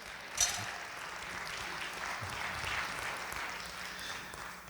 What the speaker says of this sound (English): Let's give Jesus a hand clap of praise.